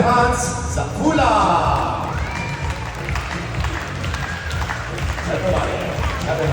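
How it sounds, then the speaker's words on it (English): Audience at a Dubai bird and dolphin show clapping along in a steady rhythm, a lively crowd with scattered whoops and cheers mixed with amplified music and a voice talking over it. "Everybody, clap your hands."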